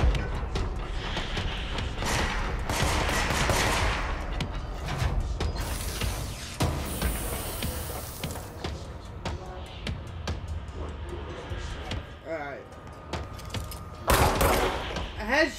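Enemy gunfire in the shooter game Control, repeated shots and mechanical clatter mixed with a dense, loud game soundscape, with a voice talking over parts of it.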